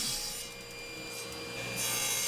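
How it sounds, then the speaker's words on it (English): A saw rips along the edge of a jointed purpleheart board to cut it parallel, giving a steady, close, continuous rasping cut with a slight dip midway and no talk. "now I'm going to rip the opposite edge parallel"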